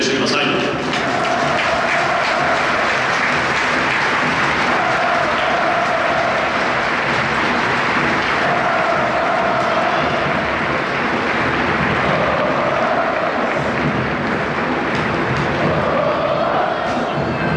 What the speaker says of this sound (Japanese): どうぞ皆様も大きな拍手で選手を激励してください